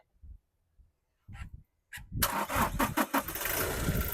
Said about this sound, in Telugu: సింగిల్ సెల్ఫ్లో స్టార్ట్ అవుతుంది బండి అయితే